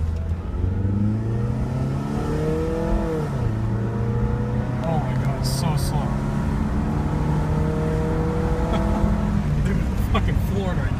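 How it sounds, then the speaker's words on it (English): A Honda Prelude on its first drive, engine humming and rising through revs as it pulls away and shifts, heard from inside the car with steady road noise and a few brief clicks. "the first drive in the Prelude since we got it"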